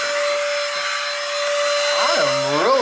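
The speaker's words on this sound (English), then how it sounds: "What a great little vacuum." A Baseus cordless portable car vacuum cleaner running close by, a loud steady high-pitched motor whine whose pitch wavers and dips near the end as it sucks up debris.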